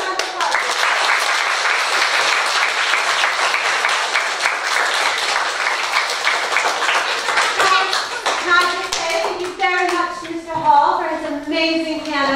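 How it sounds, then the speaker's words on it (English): Year 2 children and their audience at a school Christmas concert give a steady round of clapping that thins toward the end, where a voice begins speaking over the last scattered claps. "Let's give yourselves a big round of applause."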